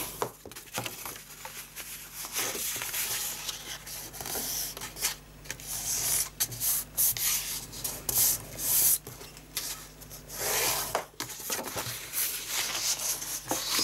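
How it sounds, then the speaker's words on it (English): Paper for a large gift box bag is folded and burnished by hand: soft irregular rubbing and scraping strokes with crinkles and pauses, close and fairly quiet. "So let's do some folding and burnishing."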